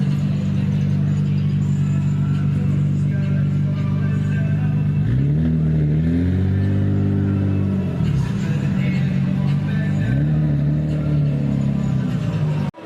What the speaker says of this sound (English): Let you guys listen to the exhaust.